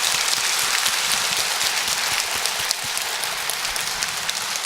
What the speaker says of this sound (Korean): 자, 우리 모든 영광을 하나님께 영광의 박수를 한번 하겠습니다.